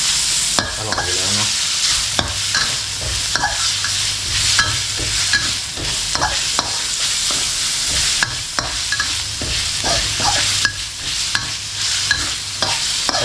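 Bamboo shoots, dried chili and pork belly stir-fried in a hot pan: a steady loud sizzle broken by frequent sharp clacks and scrapes of a utensil against the pan in an uneven, brisk rhythm.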